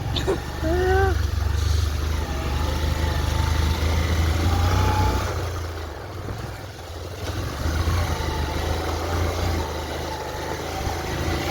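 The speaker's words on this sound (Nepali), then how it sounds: "यो पानीको झरीमा बाइक चलाइरहेको छ यस्तो चिप्लो माटोमा" Motorcycle engine straining and revving on a slippery muddy road in the rain, a steady close drone with rising and falling pitch, with people talking over it.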